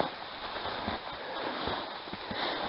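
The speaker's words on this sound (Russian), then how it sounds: "Под нами ручей течет." A forest stream flowing beneath a hunters' wooden footbridge near a hut, a steady close rushing and gurgling of water with some wind noise on the microphone.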